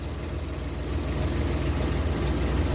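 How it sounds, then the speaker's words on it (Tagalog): A Suzuki Multicab F6A engine warms up at idle with a steady low rumble and a faint shake, its noise building slightly partway through. "So, painitin muna natin yung ating makina bago tayo maglagay ng timing light."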